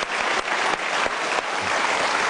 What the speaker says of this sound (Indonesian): mari kita berikan tepuk tangan untuk Vincent dan Desta